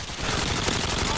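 A TAR-21 assault rifle fires in Modern Warfare 2 on the Highrise map, a brief, rapid burst of gunfire with other shooting crackling in the background.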